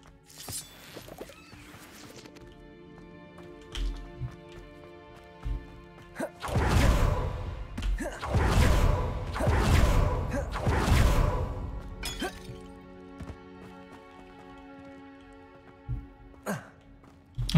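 A Bombarda spell in Hogwarts Legacy bursts into a run of loud crashing, shattering blasts, several heavy impacts in close succession over a low rumbling game backdrop, then quieter debris clatter.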